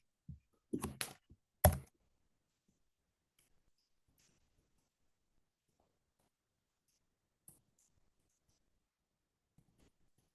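A few quick bursts of computer keyboard typing, a cluster of sharp clicks early on, then mostly quiet with isolated faint taps later; no talking.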